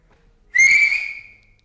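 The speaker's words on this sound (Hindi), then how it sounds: "सीटी भी बनती थी तुम्हारी, आती है तुम्हें? एक बजाओ, बजा दो।" A single clear whistled note from a person, sustained for about a second, starting sharply and slowly fading, close and loud with no talk over it.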